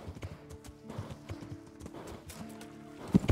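A horse's hooves clip-clop in uneven bursts in the medieval role-playing game Kingdom Come: Deliverance, with a sharp snort or whinny near the end; fairly quiet overall.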